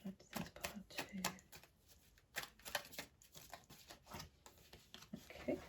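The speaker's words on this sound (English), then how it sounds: "Oh dear, some terrible shuffling there." Tarot cards are shuffled close by in a quiet room, making soft papery riffles and flicks in short irregular bursts.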